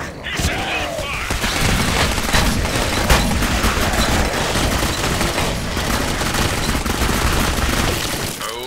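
Sustained heavy gunfire from squad weapons in Clive Barker's Jericho, a loud, dense barrage of automatic fire and booms that barely lets up, with shouting voices mixed in.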